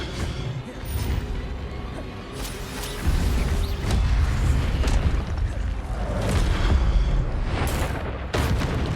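Incendio fire spell effects in the game Hogwarts Legacy, dense roaring bursts and crackling blasts layered over booming combat noise, loud and continuous with rising surges throughout.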